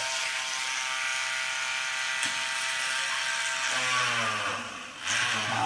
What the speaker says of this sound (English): I just have to turn on a little drill here